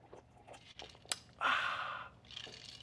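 A bite into a crispy, air-dried grilled chicken wing gives a short, close crackling crunch followed by softer chewing and a second smaller crunch, with no talk.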